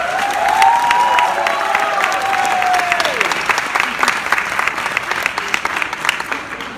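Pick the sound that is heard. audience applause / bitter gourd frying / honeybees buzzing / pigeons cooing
audience applause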